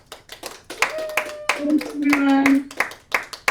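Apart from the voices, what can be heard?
audience round of applause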